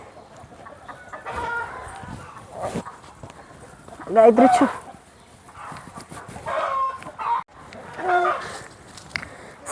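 Hens cluck in short bursts in a home garden where chickens are kept on one side, close by and mixed with people talking throughout.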